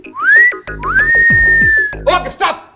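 A person whistling a few rising, sliding notes, loud and close, with a long held tone in the middle, ending in breathy trills.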